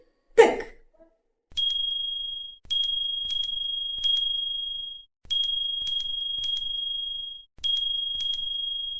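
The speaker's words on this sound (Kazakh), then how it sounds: "Ал енді оларды қоңырауымен сыңғырлатып шығайық." A small red bell rings in a steady rhythm, bright repeated dings in clusters with short pauses between, clear and close, following a brief rustle at the start.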